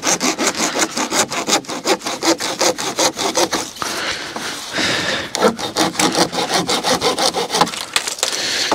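A hand saw cuts through a pipe in fast, even back-and-forth strokes, loud and close, pausing briefly midway before the rhythmic rasping resumes.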